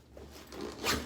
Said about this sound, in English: now we're just going to go ahead and zip up the bag